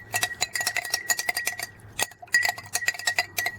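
Spoon or stirrer clinking repeatedly against a container while mixing a potassium permanganate solution, quick irregular metallic taps close up, no voices.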